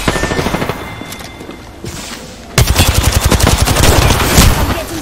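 Video game gunfire: a rapid, loud machine-gun burst of closely spaced shots that starts abruptly and continues, following a quieter stretch of game sound.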